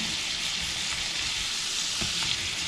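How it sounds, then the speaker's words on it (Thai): Pork stir-frying in a pan, a steady loud sizzle and hiss with occasional faint scrapes from stirring, close and continuous. "ตั้งไฟไปกวนๆ คนๆ ไป กลับด้าน"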